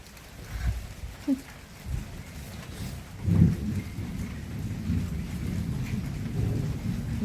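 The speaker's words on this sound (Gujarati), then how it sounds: "આ વીજળી થાય એટલે આગળ કડાકો થાય" Heavy rain during an unseasonal windstorm drums steadily on nearby surfaces while deep rolls of thunder rumble through, with one louder crack midway and talk faintly underneath.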